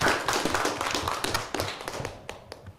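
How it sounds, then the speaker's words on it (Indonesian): Small classroom or presentation audience clapping for a presenter named Febri after a talk, a scattered burst of distinct nearby hand claps that thins and fades toward the end. "Tepuk tangan dulu untuk Febri."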